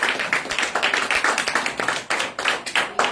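Congregation applause in a church service, a few people clapping in a quick, fairly regular rhythm, close and distinct, continuing steadily without other sounds over it.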